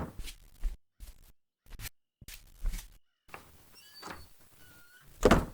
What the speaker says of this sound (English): I should close the door to be safe.